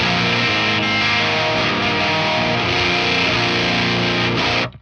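An electric guitar played through a distortion pedal rings out as a loud, dense, saturated sustained chord that shifts a few times before being cut off abruptly at the end.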